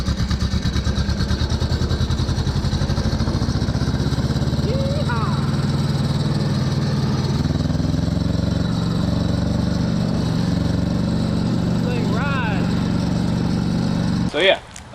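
A 1980s tractor engine runs steadily in 8th gear, a loud close continuous rumble with a droning tone that shifts slightly in pitch, ending in a brief clunk.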